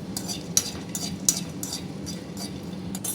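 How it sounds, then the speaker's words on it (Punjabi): Garlic cloves roast in a pan while being stirred, with soft rhythmic scraping strokes about every half second over a low, faint sizzle. "ਨਾਲ ਹੀ ਆਪਾਂ ਲਸਣ ਭੁੰਨ ਲੈਣਾ"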